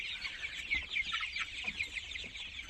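Young tiger chickens, 24 days old, cheep steadily in a dense high chorus, a continuous close flock of chirps with no talk.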